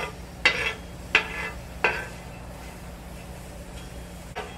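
Dry tepin chiles roast in a pan while being stirred, giving three sharp scraping rasps spaced about a second apart, then a faint low sizzle and one last light scrape.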